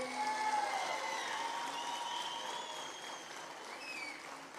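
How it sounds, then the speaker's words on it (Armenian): An outdoor festival audience gives sustained applause for the Vardenis community in Armenia's Gegharkunik region: an even, dense patter of many hands with faint whistles on top, holding steady before easing slightly toward the end. "Վարդենիս խոշորացված համայնքին բարձր ծափեր"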